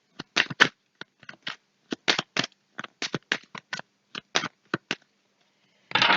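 Tarot cards being shuffled in short, crisp bursts of riffling and slapping, several quick clusters with brief pauses between, close and fairly quiet with no talk.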